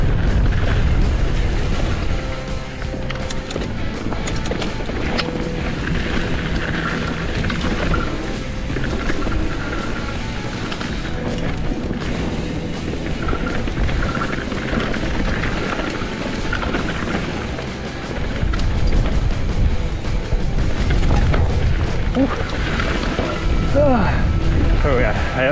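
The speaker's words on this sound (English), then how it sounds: "It's muddy and windy today." Strong gusting wind buffets the microphone in a continuous low rumble, with a person talking over it, on a muddy mountain bike enduro race course in stormy weather.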